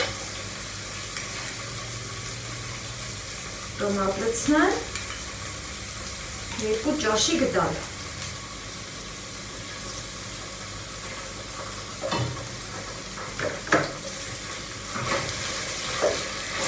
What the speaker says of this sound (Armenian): Մի քիչ էլ տոմատի հետ տապակվի